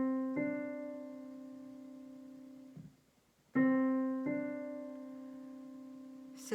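Piano plays the second measure of Bach's Prelude in C Major, BWV 846, softly and close: arpeggiated notes sustain under a held bass, then the figure repeats after a brief gap.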